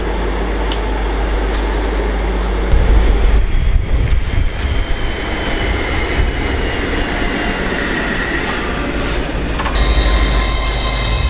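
Class 56 locomotive 56091 rolls into a station platform alongside freight traffic, a steady loud diesel rumble and wheel noise that swells partway through and holds, with no talking.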